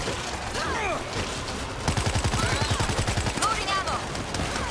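Gunfire in the video game World War Z Aftermath: scattered shots, then a loud burst of rapid automatic fire, with voices talking over the action.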